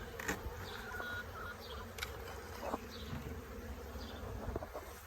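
A swarm of honeybees buzzing around a hive on a farm, a dense continuous drone that fills the air with a few louder passes near the listener and no talk.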